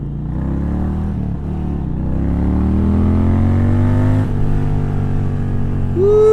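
Lloyds-tuned Indian Challenger motorcycle revving and riding past, a loud deep engine note climbing steadily in pitch as it accelerates, with a sharp shift near the end.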